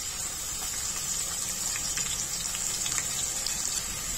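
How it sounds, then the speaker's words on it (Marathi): Finely chopped onion sizzles in a hot pan with garlic and whole green cardamom for mutton curry, a steady close hiss of frying with faint crackles and no talking. "लसूण परतून झाल्यावर त्यामध्ये 1 मोठा कांदा बारीक चिरून घ्यायचा आहे आणि तो घालायचा आहे"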